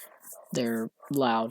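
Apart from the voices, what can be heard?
dogs barking in the background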